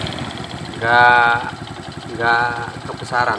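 A small carbureted motorcycle engine ticks over at low idle with a steady, rapid pulsing putter, close by, while someone speaks over it in two short bursts.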